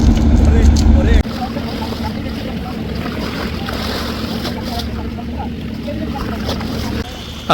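Shuvoraj 9, a passenger launch arriving at Barishal from Dhaka, gives off a loud, steady engine drone mixed with water and wind noise that stays continuous throughout, heaviest in the first second.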